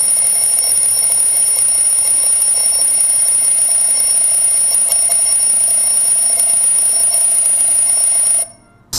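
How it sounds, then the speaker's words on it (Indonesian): A loud electronic alarm from an Anker Soundcore Wakey alarm clock speaker beeping continuously at a high pitch, steady and insistent, then cutting off abruptly near the end. "kita akan coba cek juga untuk suara alarmnya seperti apa"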